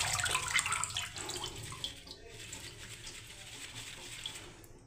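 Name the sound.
water being poured off washed pumpkin leaves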